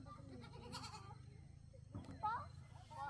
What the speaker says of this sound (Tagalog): Yung kural ng kambing